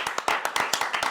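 An audience clapping for Chris Gotti at an interview, a quick run of close, sharp hand claps in a steady rhythm, with faint voices underneath.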